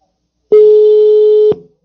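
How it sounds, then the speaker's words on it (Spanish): On a telephone call to an Argentine phone, a single steady electronic tone sounds loud and close for about a second, starting and stopping with clicks, with no talking during it. "le estamos llamando al teléfono argentino"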